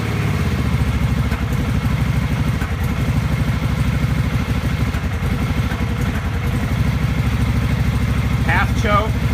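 Kawasaki VN750 motorcycle engine idling on three-quarter choke during a cold start, a loud, steady, close low rumble with even firing pulses throughout.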